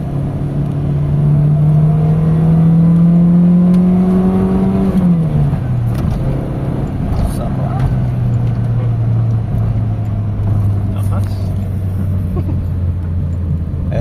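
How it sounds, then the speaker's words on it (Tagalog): Toyota Corolla GLI big body engine, previously troubled by stalling at idle: a steady, strong rev that falls back to a smooth, lower idle and keeps running, heard close with a few brief spoken words. "hindi na namamatay yung makina mo. Maganda na yung galit niya."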